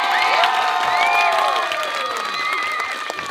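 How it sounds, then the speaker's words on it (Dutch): An audience at a children's musical presentation applauds and cheers loudly, with steady clapping, whoops and children's high shouts running without a break and tapering slightly toward the end. "Mag ik een applaus voor jullie papa en mama?"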